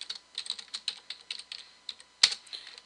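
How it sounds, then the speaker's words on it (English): Keys clacking on a computer keyboard as a password is entered at a server command prompt, an irregular run of close, crisp taps with one louder final keystroke, no talking. "It says type a password. Okay, we're gonna have to retype it."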